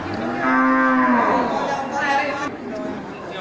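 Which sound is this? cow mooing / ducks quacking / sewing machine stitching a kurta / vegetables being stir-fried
cow mooing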